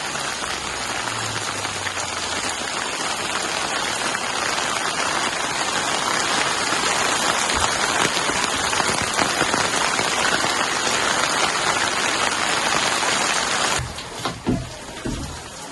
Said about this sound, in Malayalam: പുറത്ത് നല്ല മഴയും കോടയാണ്.